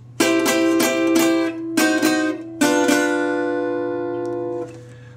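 Guitar playing the intro sequence of a song: a quick run of bright struck chords, then a pause, a few more strums, and a final chord left ringing out, close and alone.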